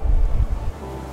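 A boat motors across open sea near Iceland, with a deep, loud engine and wind rumble in a short burst that drops suddenly to a steadier, quieter drone.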